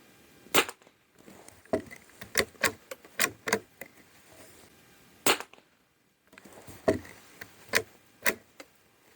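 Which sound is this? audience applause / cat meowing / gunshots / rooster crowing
gunshots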